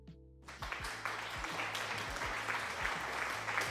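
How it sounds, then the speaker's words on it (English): A livestream applause alert bursts in after a brief hush: a dense crowd clapping and cheering sound effect, loud and sustained for a few seconds, with a steady low electronic tone pulsing underneath. "Thanks for the applause."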